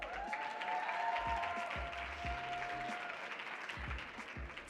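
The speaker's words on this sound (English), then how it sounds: "A round of applause." An audience at a tech summit claps to welcome a panel moderator on stage, giving a sustained wash of applause from a large crowd with a few sharper individual claps and a faint tone running partway through.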